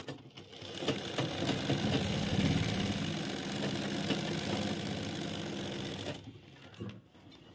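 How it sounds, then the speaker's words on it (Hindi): A sewing machine runs steadily for about six seconds while stitching piping onto a trouser cross pocket. Its hum and rapid needle chatter come from close by before the motor stops. "यहाँ पर जो हमने क्रीज तोड़ी है उसकी जड़ में सिलाई लगाएंगे"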